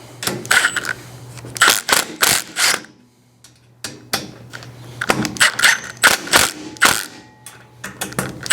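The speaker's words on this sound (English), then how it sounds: "You want to snug those bolts up." A ratchet wrench snugs down the bolts of a hood rack being installed, with close, crisp clicking in repeated bursts separated by short pauses.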